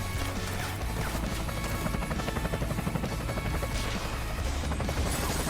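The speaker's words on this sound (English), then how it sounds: "Keanu Reeves coming on a helicopter" A helicopter arrives in a Breaking Bad scene, its loud rapid rotor chop thumping steadily throughout, mixed with mechanical clatter and scattered crash-like hits.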